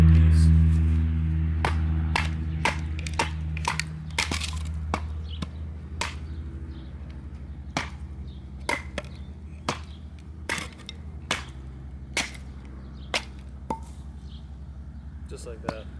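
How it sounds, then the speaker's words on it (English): Sharp, rhythmic chopping strikes of an ESEE 5 knife into a skinny piece of wood, about twenty evenly spaced hits, close and crisp, following a low motor-like hum at the start. "You can see the unbelievable chopping power of this SE5."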